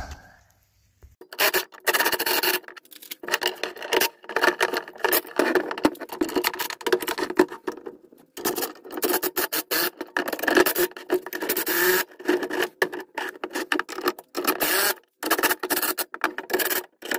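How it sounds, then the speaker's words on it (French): Rasping, scraping metal-on-metal work while a shock absorber is taken apart on a Peugeot 207, dense bursts of rubbing and clatter running almost continuously up close, broken by a few brief pauses, no talking. "Maintenant, on démonte l'amortisseur."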